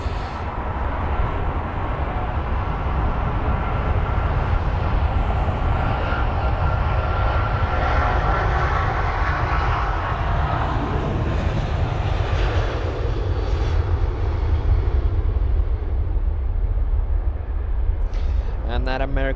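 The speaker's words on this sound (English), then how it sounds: "That American 777-200ER is off to Charlotte." An American Airlines Boeing 777-200ER departs London Heathrow, its loud, steady jet engine roar filling the air continuously before a brief clatter near the end.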